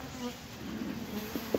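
Honey bees in a queenless hive hum steadily up close in a brief, continuous drone, with a slight rise in buzzing near the end as older bees grow fussy.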